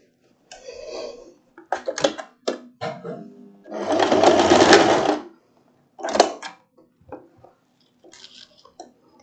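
A domestic sewing machine runs in short bursts and one longer steady run, stitching the casing tunnel on a floral wrap dress, with pauses between runs and no talk.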